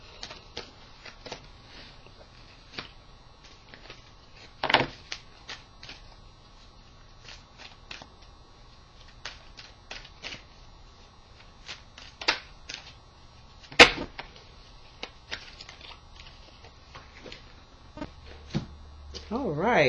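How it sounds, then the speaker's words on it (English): Tarot cards being shuffled by hand, a long run of faint, rapid riffling taps with a few sharper snaps, close and quiet over a low background hum. "I'm going to shuffle for you"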